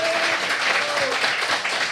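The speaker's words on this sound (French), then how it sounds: "Bon, un applaudissement pour Guy, tout le monde, quand même" A small audience applauds a guest on a French-language podcast in a brief, steady burst of clapping with a faint tone and voices underneath.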